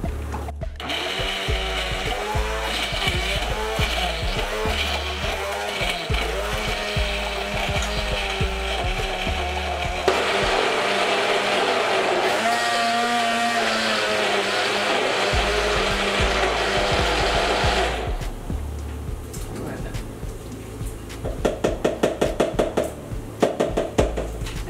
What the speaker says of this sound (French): Et voilà, je vais mixer.